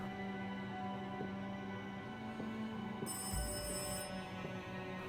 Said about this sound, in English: Okay, I hear the phone ringing.